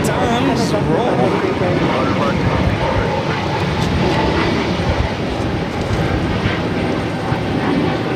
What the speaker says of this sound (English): This is that Spirit A320neo. We saw do the engine start up right in front of us, taking off to Norfolk.